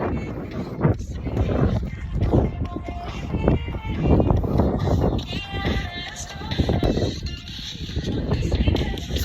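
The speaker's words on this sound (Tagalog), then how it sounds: "Kusog kayo ang hangin." Strong gusts buffet the microphone on an outdoor walk near a bridge, a loud rumbling roar that swells and fades, with people talking over it.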